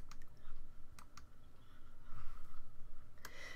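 Keystrokes on a computer keyboard while text is entered into Brother PE Design Next embroidery software, a few separate clicks at the start and a quick burst near the end over a faint room hum.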